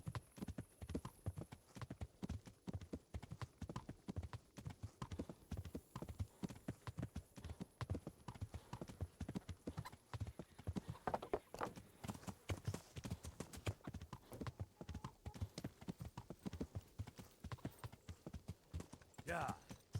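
Rapid, steady clip-clop of horse hooves trotting across the whole stretch in the video game Kingdom Come: Deliverance, with a voice talking over it now and then.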